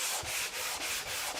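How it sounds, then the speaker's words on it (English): A wood veneer ornament gets a quick hand sanding with the grain, about five short, even scratchy strokes in a steady back-and-forth rhythm, close and alone. "Usually after I use something like that, I will sand just very quickly"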